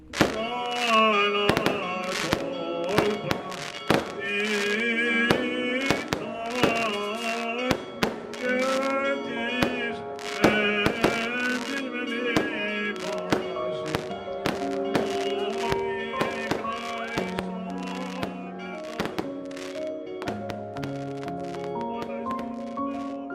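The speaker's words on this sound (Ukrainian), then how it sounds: "Та починається святковий салют." An Easter fireworks display in Crete crackles with repeated sharp pops and bangs in irregular bursts, layered over steady tonal music or ringing that continues under and between the blasts.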